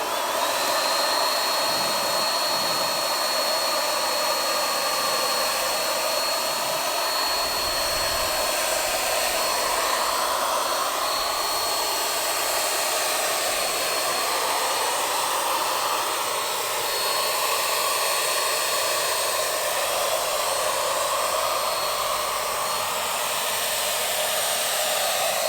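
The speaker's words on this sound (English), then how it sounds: "how much spray is going to come out, so you get a finer mist the more you twist it out" A handheld paint sprayer with a twist-adjustable nozzle sends out a fine mist while wall panelling is painted in a bedroom, a loud, steady airy hiss that runs unbroken with no voices.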